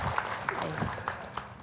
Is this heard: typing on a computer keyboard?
no